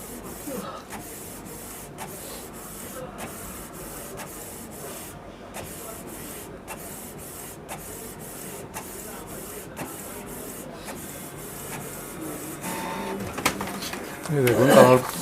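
A Canon G2010 inkjet printer making a photocopy: a steady run of rhythmic mechanical whirs and clicks at roughly one-second intervals, nearby. A person talks throughout, and heavier feed sounds build near the end.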